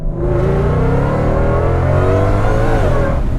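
Ford Shelby GT500 King of the Road with a supercharged engine accelerating hard, a loud rising engine roar with climbing tone heard from inside the car, continuous and without talk.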